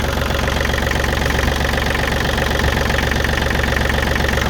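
Yanmar 39 diesel engine on a converted hearse, cracked fuel line, running rough with a steady, loud knocking idle throughout, close by and alone.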